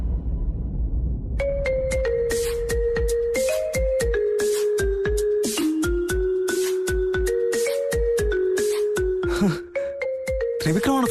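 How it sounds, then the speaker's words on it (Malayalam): Phone ringing with an incoming call in a Malayalam TV serial, a loud melodic ringtone with a repeating rhythmic tune that starts after a moment and plays continuously. "ത്രിവിക്രമാണ് ഫോൺ ചെയ്യുന്നത്."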